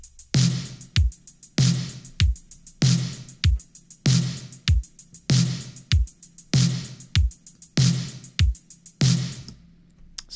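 A simple, steady synthwave drum loop with deep kick thumps alternating with bright reverb-washed snare hits and light hi-hat ticks, repeating evenly about twice a second, loud and close with no voices.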